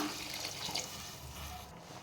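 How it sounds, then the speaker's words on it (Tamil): Water pours steadily into a pot of country chicken curry, a continuous splashing gush close by with no voices. "இந்த நாட்டுக்கோழி வேகிறதுக்கு தண்ணி சேர்த்துக்கலாம்"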